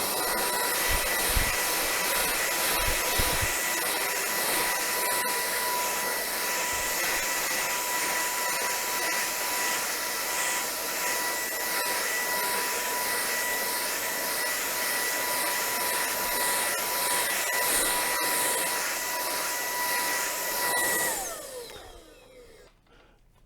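A BVILY cordless vacuum cleaner roars in turbo mode, a loud, steady high-pitched motor whir held for about twenty seconds before winding down and stopping.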